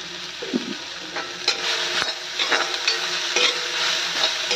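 Banana flower fries in a pan with a steady sizzle, punctuated by several clinks and scrapes of a spatula against the metal, close and fairly loud.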